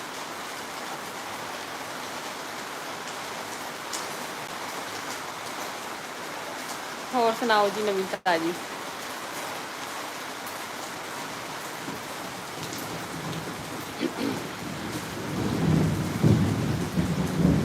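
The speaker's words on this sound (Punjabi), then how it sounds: "ਪੂਰਾ ਗਰਜ ਰਿਹਾ ਬੱਦਲ ਵੀ ਪੂਰੇ ਗਰਜ ਰਹੇ ਨੇ" Steady rain with rumbling thunder during a monsoon storm in Punjab, a continuous wash of rainfall that swells louder near the end, with someone speaking briefly partway through.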